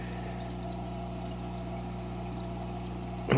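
Water runs steadily out of an outlet through a sock filter bag on a DIY planter setup, giving a continuous close pouring and gurgling wash with a low pump-like hum underneath and no talking.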